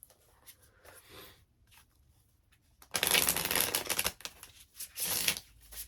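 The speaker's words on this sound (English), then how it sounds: "Let's shuffle for Leo." Tarot cards are shuffled by hand in a quiet room, starting with soft scattered riffles and rising into louder, dense bursts of rapid card flutter.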